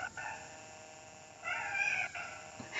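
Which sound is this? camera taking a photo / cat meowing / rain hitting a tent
cat meowing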